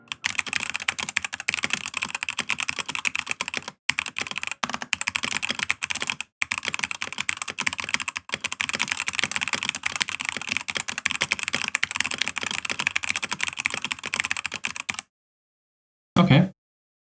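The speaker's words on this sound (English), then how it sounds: "I'm going to go ahead and do a typing test to see how they sound" Typing test on a budget Amazon mechanical keyboard with unlubed switches, a dense, continuous clatter of close keystrokes for about fifteen seconds with a few brief pauses, then a short thump at the end.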